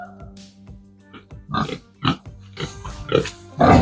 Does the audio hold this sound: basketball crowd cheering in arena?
no